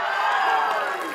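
A crowd at an outdoor athletics meeting in Palanga, Lithuania, cheers in one loud, sustained wash of voices and applause that fades slightly toward the end.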